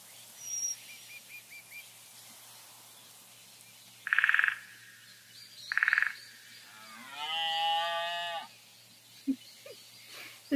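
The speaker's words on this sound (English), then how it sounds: "There's a sheep in this forest, too." A sheep bleats with a long wavering cry, preceded by two short bright chirps, in a quiet outdoor setting with faint background calls.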